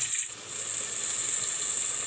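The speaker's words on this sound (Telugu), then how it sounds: "కొంచెం కరివేపాకు కూడా వేసుకొని కొంచెం వేయించుకోవాలి" Curry leaves frying in hot oil for a chicken fry, a steady close sizzle with high hiss running throughout and no talking.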